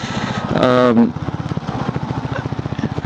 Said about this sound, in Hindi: ये बहुत ही खूबसूरत और स्मूथ और मस्त पंची पेपी वाला इंजन है